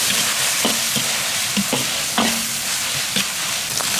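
Pork belly is stir-fried in a wok with dark soy sauce and soybean paste. Loud, close sizzling runs throughout, and the spatula scrapes and clanks against the pan at a steady rhythm. No talking.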